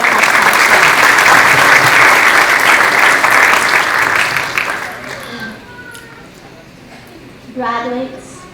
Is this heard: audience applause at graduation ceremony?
yes